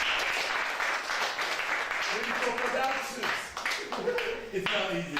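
Applause from an audience at a celebration of African heritage and culture during a public speaking lecture, dense steady clapping filling the room, with voices talking over it toward the end.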